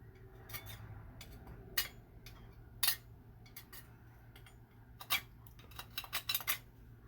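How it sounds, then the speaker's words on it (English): A scraper works leftover residue off a bathroom wall in a small home repair job. It makes sparse, uneven scratches and clicks, close and fairly quiet, with short pauses between strokes and no talking. "So let's go ahead and just scrape that off now."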